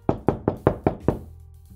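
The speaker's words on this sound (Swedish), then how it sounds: "knackar på en dörr" Six firm, evenly spaced knocks on a door, close and resonant, each decaying quickly, followed by quiet.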